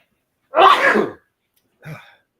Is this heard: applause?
no